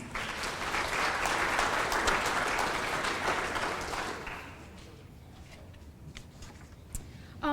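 Dense, steady applause from a pageant audience at a children's Little Miss and Mister Shamrock event in Ireland, holding strong for about four seconds before thinning to a few scattered claps and quiet.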